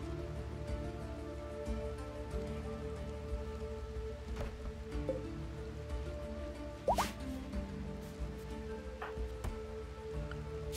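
Rain falling in the RimWorld video game, a soft steady patter of drops with occasional drips, alone and fairly quiet throughout.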